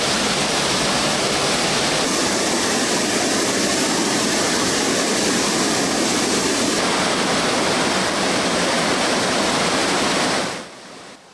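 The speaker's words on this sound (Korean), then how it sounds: "계곡의 물줄기가 거세게 감돌며 흘러내리는" Rushing stream water pours strongly through a rocky mountain valley under Haneuljae, a loud, steady broadband roar that holds throughout before cutting off near the end.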